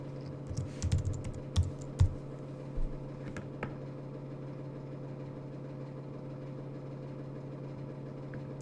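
Quick bursts of keystrokes on a computer keyboard entering a password, a handful of close clicks in the first few seconds, then a quiet steady hum of a machine running alone.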